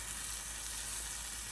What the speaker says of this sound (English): There's no water in there, so they're frying.